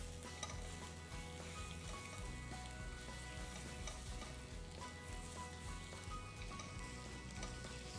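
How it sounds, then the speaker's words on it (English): Tomato puree frying in a pan on medium heat for a tikka masala, giving a steady, dense sizzle that crackles evenly throughout with no voices. "So we're going to fry this on medium heat."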